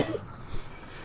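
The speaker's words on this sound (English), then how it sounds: "I nearly made it through a video without coughing, but sadly not quite." A brief single cough from a man, near and moderately loud, lasting well under a second before fading into quiet room tone.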